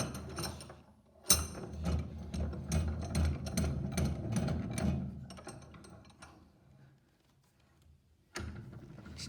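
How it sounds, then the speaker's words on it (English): A wooden workpiece is clamped in a vise, giving a close, quiet run of ratcheting and clicking mechanical sounds that fade out, followed by one more sharp knock near the end. "place that in the vise"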